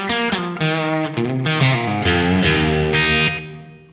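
An electric guitar through an Atomic Ampli-firebox Mark II amp modeler plays a loud, slightly distorted chord phrase with echo delay and a reverb wash, the repeats blurring the notes together before the last chord decays.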